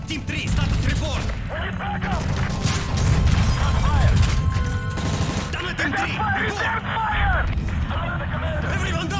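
Gunfire in Call of Duty 3 during a plane hijacking mission: rapid bursts of automatic fire and scattered shots crackle continuously over roaring engines and crashing effects, with shouted voices mixed in throughout.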